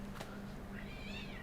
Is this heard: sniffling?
no